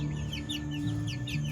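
Soft, repeated clucking from a young Welsummer rooster, several short calls in an uneven rhythm over a steady low mechanical hum.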